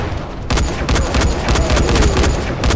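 A string of sharp, closely spaced gunshots from Dying Light, punchy and near, repeating in a quick irregular rhythm over a low rumbling backdrop.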